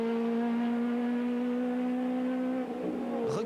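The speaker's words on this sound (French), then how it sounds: "Regardez bien cette Ford Escort Groupe A de 300 chevaux" A 300-horsepower Ford Escort Group A rally car holds a loud, steady engine note throughout a special stage of the Rallye des Hautes-Fagnes, then the pitch wavers and drops near the end as it shifts or lifts off.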